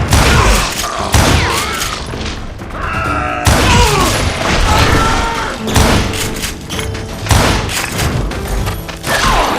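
Gunfire in the Western shooter Call of Juarez Gunslinger, loud close bursts of shots and heavy thuds and booms in rapid irregular volleys, with game music and effects underneath throughout.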